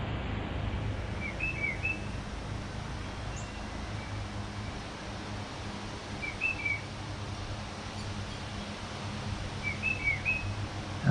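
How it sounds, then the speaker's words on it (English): A bird chirps from a pine tree in short, repeated high calls at intervals. The calls are fairly faint and sit over a steady outdoor background hum. "Whoever's chirping is over here in the pine tree."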